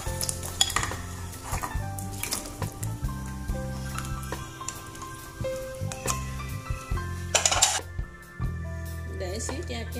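A pot of boiling water for sour fish soup clatters with metal clinks, stirring and a sizzling bubble, layered with scattered scrapes and knocks as a person talks nearby.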